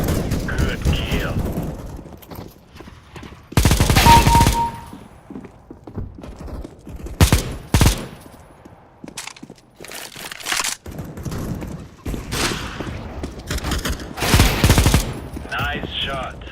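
Gunfire in Counter-Strike: Global Offensive deathmatch: loud, sharp bursts of shots and single cracks at intervals among quieter footsteps and game sounds, with no voices.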